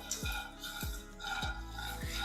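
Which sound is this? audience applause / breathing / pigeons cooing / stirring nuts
stirring nuts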